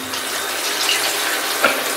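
Steady rush of tap water running into a tub while a muddy dog is bathed indoors, a continuous close hiss with a faint splash near the end.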